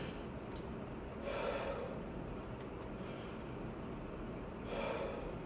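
Two audible inhalations demonstrate chest breathing for saxophone playing, each a soft, airy intake of breath close by, the second following after a quiet stretch, with no talking.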